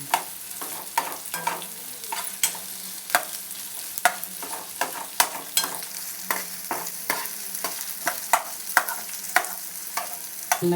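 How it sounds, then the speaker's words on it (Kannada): Slices cut lengthwise fry in a little oil until golden for chicken biryani, a continuous sizzle punctuated by frequent, irregular metallic clinks and scrapes of a spoon stirring the pan. "ಸ್ವಲ್ಪ ಎಣ್ಣೆಗೆ ಸ್ವಲ್ಪ ಗೋಲ್ಡನ್ ಕಲರ್ ಬರೋತನ ಫ್ರೈ ಮಾಡಬೇಕು"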